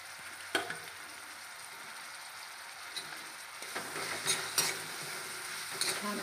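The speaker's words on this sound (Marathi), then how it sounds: "कांदा टोमॅटो छान फ्राय होत आहे" Onion and tomato fry and sizzle in a pan while a spoon stirs them, a steady hiss broken by a few scraping stirs and clinks that grow busier toward the end, with no talking.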